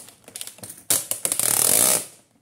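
A cardboard package is torn and ripped open by hand close by, short crinkly scuffs at first and then a sustained loud tearing rip lasting about a second before it stops.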